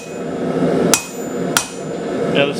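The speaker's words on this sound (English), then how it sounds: "get your punch in position and give it a solid whack" A hammer strikes a punch on hot metal during blacksmith forging, two sharp ringing blows a little over half a second apart, close and loud over a low background hum.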